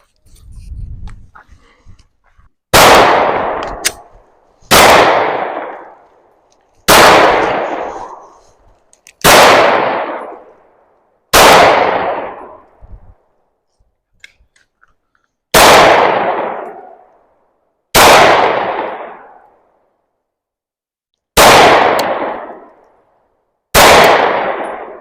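Gunshots ring out at a shooting range, nine sharp, loud reports spaced a few seconds apart, each followed by a fading echo, with quiet between shots.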